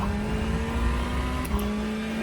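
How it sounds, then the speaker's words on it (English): Ferrari Challenge race car at full throttle down the straightaway at Circuit of the Americas, a steady, loud engine drone held throughout with a constant pitched tone and no talk. "and full throttle down the straightaway."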